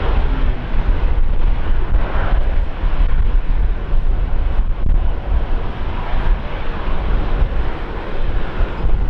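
A Qantas Link E190 jet landing at Brisbane airport, steady broadband roar with wind-like rush throughout, fairly loud and continuous without distinct peaks.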